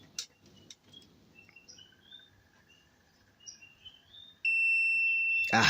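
Electronic beep from a buzzer on an Arduino breadboard circuit, a sustained steady tone near the end after quiet electronic chirps and faint background noise.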